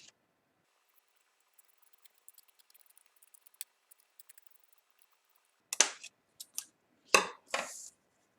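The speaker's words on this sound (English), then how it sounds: "go ahead and cut that as well" Scissors snipping through paper while tessellation shapes are made, a handful of short, crisp cuts in quick succession after a mostly quiet stretch with faint rustling.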